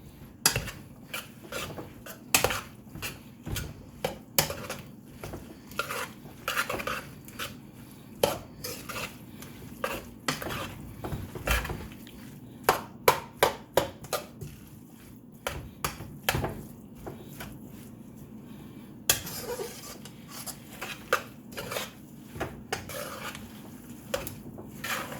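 Chicken fried rice is mixed in a pan with a utensil: repeated close metallic clinks, taps and scrapes come in irregular bursts over a faint background, with no voices.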